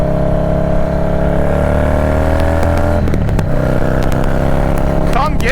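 A Harley-Davidson Dyna Low Rider S on the road, its engine a steady loud drone with a shift in pitch partway through and wind noise over it.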